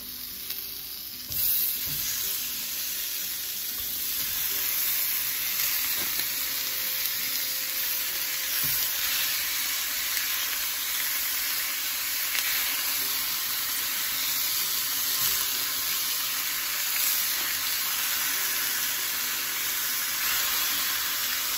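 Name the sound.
hamburger meat frying in a wok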